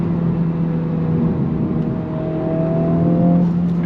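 A 2023 Honda Civic Type R engine revs high, with a steady, loud, continuous tone climbing slightly through the rev range from inside the car.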